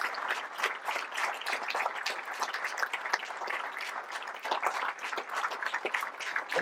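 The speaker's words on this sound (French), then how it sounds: "je voudrais que maintenant tout le monde se lève pour bien vouloir leur rendre hommage à nos sapeurs-pompiers et à nos gendarmes par une salle d'applaudissements" Sustained applause from a standing audience at a mayor's New Year wishes ceremony in Cruguel, paying tribute to local firefighters and gendarmes; dense, steady clapping fills the hall throughout without talk.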